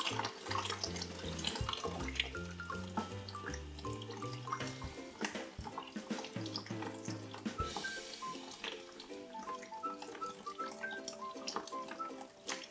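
Water runs steadily while grain is rinsed in a filtration bucket for brewing, a soft continuous splash and trickle at low level, with faint clunks and background tones.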